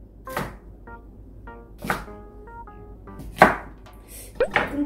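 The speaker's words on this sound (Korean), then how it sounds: "일단 한 입 크기로 썰겠습니다." A knife chops food into bite-size pieces on a board, giving about five sharp, separate strikes at an uneven pace, close and fairly loud, with no talking.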